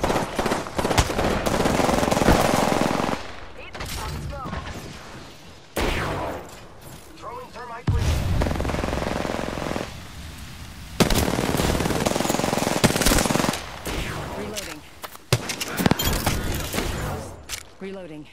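Automatic gunfire rattles through a video game firefight against enemy squads, long bursts repeating in waves across the stretch, loud and dense, with a voice talking over parts of it.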